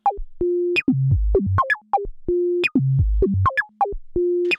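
WMD Javelin synthesizer tones with snappy envelopes and a resonant filter tail, playing a repeating sequence of short pitched notes and longer held ones in a steady, clean rhythm.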